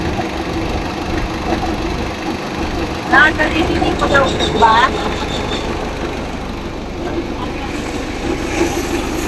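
A car engine runs at a steady idle with a faint clicking knock during a mechanic's check, producing a loud, continuous close-up drone throughout, while someone speaks briefly over it.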